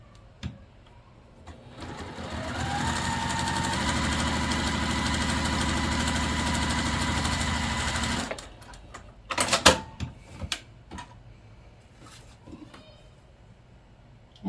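Sewing machine stitching the corner of a quilt block, the needle lined up along line tape under the presser foot; one sustained steady run of several seconds, then a few clicks and handling noises as it stops.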